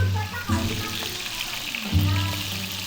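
Longganisa sausage sizzles and crackles steadily in a hot pan, a dense, close frying hiss with occasional louder spits and brief low knocks of stirring, carrying on without any talk.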